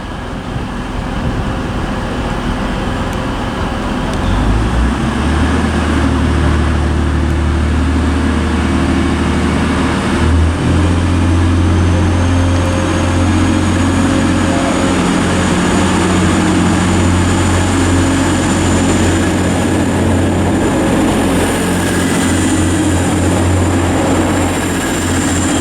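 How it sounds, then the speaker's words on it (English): A TransPennine Express train pulls out of Durham station on the East Coast Main Line, a loud low engine drone building after a few seconds and holding steady, with no talk. "now departing is going to be the 1416 Transpennine Express service to Liverpool Lime Street"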